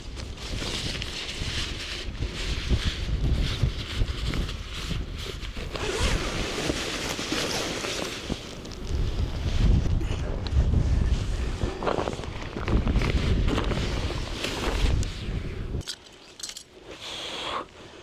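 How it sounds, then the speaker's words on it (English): Gusty wind buffets a tent campsite in uneven, rumbling surges, mixed with close rustling, jangling and zipping as camping gear is handled nearby. "it's still quite windy here"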